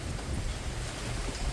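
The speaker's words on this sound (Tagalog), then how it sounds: "Mahangin pa rin po." Strong, steady typhoon wind roaring and buffeting outdoors during Typhoon Enteng in rainy weather, a continuous broadband rush with no voices.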